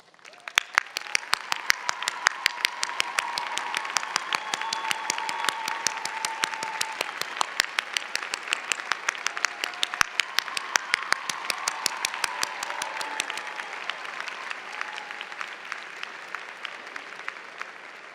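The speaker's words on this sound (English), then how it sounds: "Would the family members of our graduating students please rise to receive" Sustained audience applause for graduates' families at a 2012 Simmons undergraduate commencement, a room full of dense, crisp clapping that rises quickly, holds steady and slowly tapers off.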